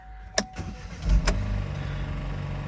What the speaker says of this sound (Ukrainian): Ну запускається машинка, ну просто відмінно.